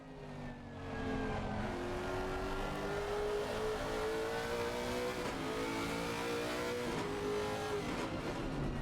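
A 1992 Lexus race car's engine heard from inside the cockpit while chasing a 1972 Porsche toward turn 5 at the Hungaroring: steady loud revving with rising gear pitches and shifts, no talk.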